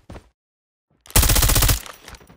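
A loud burst of automatic gunfire in the Call of Duty multiplayer mode, preceded by a brief isolated shot and a pause, the rapid rattling fire lasting about a second before trailing off.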